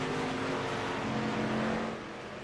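K&N series stock cars racing at Watkins Glen, a steady loud engine roar holding throughout with a slight drop near the end.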